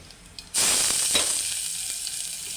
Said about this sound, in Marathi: त्याच्यात कढीपत्ता टाकते कढीपत्ता झाला चांगला की मग कांदा घालते